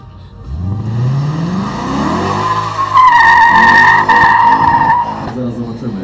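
An orange Lexus IS F race car at a GP Polski event in Biała Podlaska revs hard, with a loud, sustained tire squeal and skid up close as a commentator talks over it.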